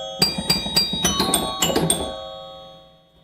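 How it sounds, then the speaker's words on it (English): Gottlieb chime unit on a Star Light pinball machine rings a quick series of bright struck chime tones, several notes in bursts, then a clear ringing decay fading to quiet. "One of them's a standard Gottlieb chime unit, and the other is a Gottlieb chime unit that I made custom chime bars for"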